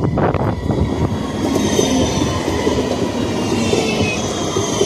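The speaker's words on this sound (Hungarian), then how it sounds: "Közben megvárjuk, mert jön egy Siemens kombinó" A Siemens Combino tram passes on a Budapest line at Kelenföld, loud and close, with a continuous rumble and rolling wheel noise throughout.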